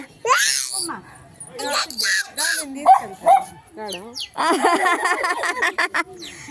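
A dog barks a few times amid lively nearby chatter, with a voice and some laughter mixed in.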